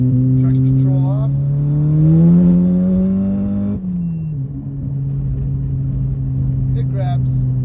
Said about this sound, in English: Finally got the break in on the XClutch Stage 2, so let's give it a little rip right now.